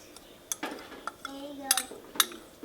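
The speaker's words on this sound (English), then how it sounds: "And then I'm going to whisk this until it thickens." Cream of celery soup being whisked in a pot after a roux, a whisk tapping and scraping the sides with irregular metallic clinks, close and fairly quiet, no one talking.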